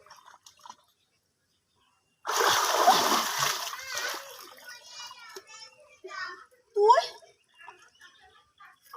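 A loud splash erupts as someone dives into a pond, followed by dripping and settling water while voices talk nearby.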